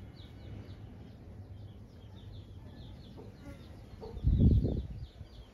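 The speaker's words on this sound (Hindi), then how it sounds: "और यार बच्चे वाली मुर्गी चिल्लाने लगी" A mother hen with chicks lets out a loud burst of clucking near the end, over steady low background noise and faint bird chirps.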